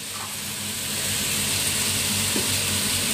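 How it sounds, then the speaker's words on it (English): Steady, fairly loud broadband hiss and crackle of chicken wings sizzling in a hot pan, continuous throughout with a low hum beneath. "Can you hear the sizzling?"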